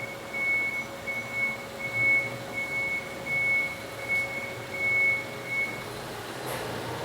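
A vehicle's reversing alarm beeps in a steady, evenly spaced series, faint and distant, over a low background hum before falling silent.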